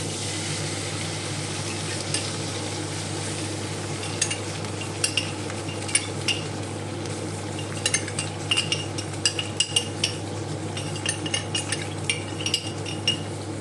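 Chicken frying in a pan as sauce is poured in, giving a steady close sizzle under scattered clinks and scrapes of a utensil stirring.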